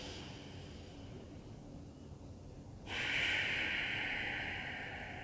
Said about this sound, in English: So I want you to just deepen the breath. Really paying close attention to the exhales.